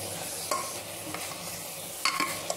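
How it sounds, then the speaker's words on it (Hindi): Chunks of jackfruit stirred into cooked masala in a pressure cooker: a low, even sizzle broken by a few clinks and scrapes of a ladle against metal, close and soft, with no talking. "मैं कटहल डालती हूँ"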